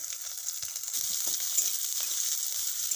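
Chopped onions frying in a wok give off a steady, close sizzle with a few soft stirring clicks, no talking.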